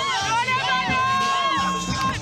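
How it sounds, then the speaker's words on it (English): Lebanese supporters at a fight event fill the space with loud, close cheering crowd noise, with wavering raised voices rising and falling throughout. "You can hear them, they're here for him, they're clapping, they're dancing."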